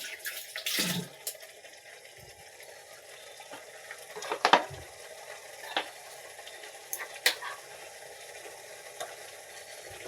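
Water poured into a pan of frying spices and turmeric gives a sharp burst of hissing and splashing at first, then settles into a steady low sizzle broken by a few scraping clinks, heard up close with no voices.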